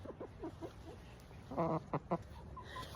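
A Cornish cross hen clucks close by, a few soft low clucks and then a louder cluster of short calls, over quiet background.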